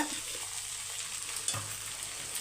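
Vegetables such as drumstick and brinjal frying in a pan as chili powder is stirred in, a continuous close sizzle with scraping strokes of a spoon and one sharper knock partway through.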